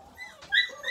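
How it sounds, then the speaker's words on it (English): A cavadoodle puppy gives a brief, high whimper, a thin whine rising over about a second, close and alone. "Lolly's puppies are all cavadoodles."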